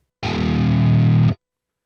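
One sustained, heavily distorted chug from a down-tuned electric guitar pitched down through a Fortin amp plugin, thick and loud for about a second, then cut off abruptly with little sustain.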